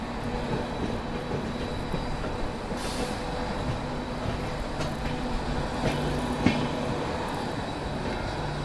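A goods train rolls along a railway with a continuous low rumble of wagons and wheels, steady and fairly close, with a few faint metallic clanks and no voices.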